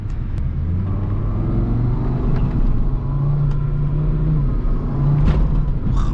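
A Volvo S60 R's engine hums and revs while driving, a close, steady low rumble whose pitch climbs and falls with each throttle change, heard alone without talk.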